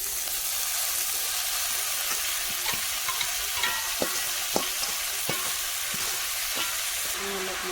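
Banana stem frying with pork in a pan sizzles steadily at close range, with intermittent scraping and stirring clicks throughout, no talking.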